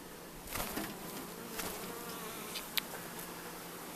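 Honeybees from a swarm-started hive buzz steadily during a summer honey harvest, a continuous close drone with individual bees whining past the microphone.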